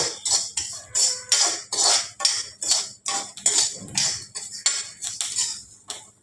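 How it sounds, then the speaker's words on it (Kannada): Fenugreek seeds stirred and roasted in a dry pan, with a spoon or spatula scraping and clinking against the metal in a steady run of about a dozen quick strokes, fairly close and alone. "ಮೆಂತ್ಯ ಕಲರ್ ಬರೋ ತನಕ ಹುರ್ಕೋಬೇಕು"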